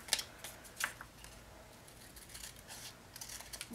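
Scissors cutting paper for a toddler's pumpkin craft, a few crisp close snips near the start followed by quieter rustling and light snipping.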